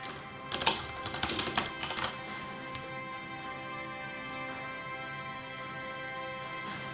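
A short flurry of close keyboard taps while a message is typed into a chat, lasting about two seconds and then giving way to a quiet steady hum.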